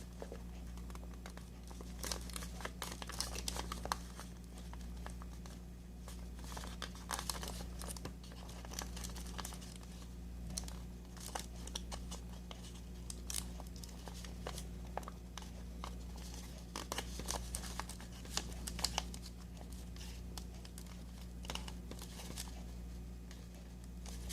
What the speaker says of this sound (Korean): 밑에가 뾰족해지도록 잘라진 선까지 접어줍니다